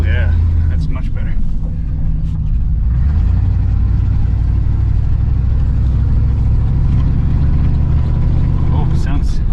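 A 1988 Chevrolet Suburban with a small-block V8 and freshly replaced throttle-body fuel injectors runs steadily with a low, throaty rumble throughout, revving slightly, while people talk over it.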